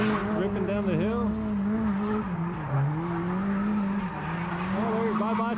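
A drift car at a drift competition rips down a hill, its engine droning and wavering continuously at high revs, with tire squeal and a commentator talking over it.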